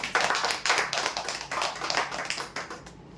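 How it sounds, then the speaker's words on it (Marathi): A crowd at a weekly prize draw claps for a winner, a burst of many hands applauding together in uneven waves for about three seconds before tapering off. "जोरदार टाळ्या दे"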